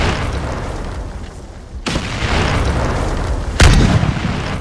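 Two loud, sharp grenade blasts in the Pirates VS Ninjas video game, each a sudden boom over a constant rumbling game soundscape.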